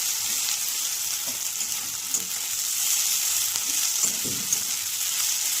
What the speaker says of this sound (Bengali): বেশ ভালো করে নাড়াচাড়া করে নিতে হবে যাতে আদা রসুনের কাঁচা গন্ধটা না থাকে